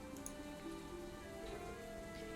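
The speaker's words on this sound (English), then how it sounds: "we just watched the raindrops dance on the water below" Rain falls on water in a visual novel video game, a dense, even hiss of drops pattering continuously at low level with no voices present.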